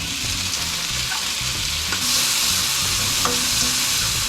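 Garlic, onion and tomato sautéing in a pan, a steady loud sizzle with stirring scrapes throughout, close and continuous with no talking.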